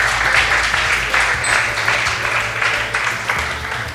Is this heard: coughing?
no